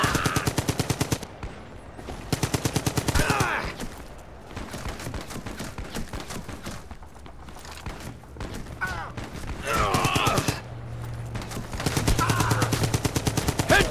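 Bursts of M1941 light machine gun fire from Brothers in Arms 3 hammer out in rapid, loud strings, pausing between volleys while game announcer voice lines play over the quieter stretches.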